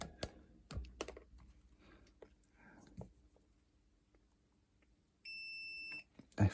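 A steady electronic beep from a multimeter in continuity mode sounds for about a second, close and clear, amid faint clicks and handling noises while testing Game Boy Advance SP boards.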